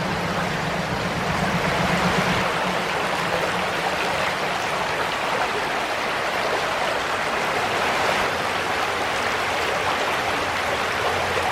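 Creek water flowing beneath the Walcott Covered Bridge in Bracken County, Kentucky, makes a steady, broad rushing hiss, constant and moderately close, with no voices.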